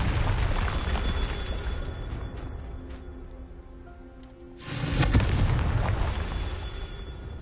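In Hogwarts Legacy, ambient game noise drifts along until a Confringo spell detonates with a sudden broad explosive burst, followed by a lingering rumble.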